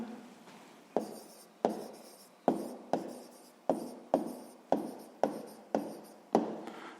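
Pen writing an answer on paper, a regular series of about ten short scratchy strokes, each beginning with a sharp tap and fading off, close and clear with no talk.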